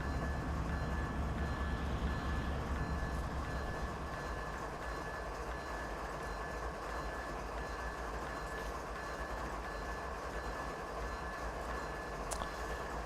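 A train runs on the Canadian Mountain Pass line in Train Simulator 2019, a continuous low rumble with a faint clatter of wagons, steady and fairly quiet throughout.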